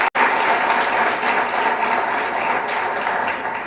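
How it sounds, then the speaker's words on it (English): Sustained applause from a crowd at a Peace Corps swearing-in ceremony in Liberia, a dense, steady wash of many hands clapping at close range with no talk over it. "You can hear from the applause how much they appreciate you"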